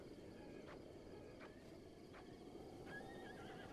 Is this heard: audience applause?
no